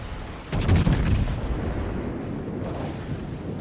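A heavy gun salvo from a battleship such as the Montana in World of Warships opens with a deep, booming blast. Its rumble then fades into a long low roar, with no voices over it.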